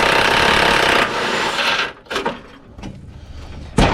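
Loud, close impact wrench hammering at a stubborn nut on a 1979 Z28 Camaro during engine removal, a continuous rattling burst that stutters and drops off, then a final sharp hit.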